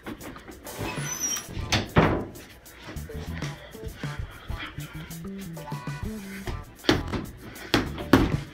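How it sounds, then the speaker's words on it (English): An indoor room door swings shut: a few knocks and thuds with some shuffling, and a voice briefly in the room. "Close my door."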